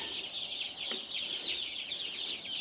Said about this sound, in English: This is what 165 day old chicks look like.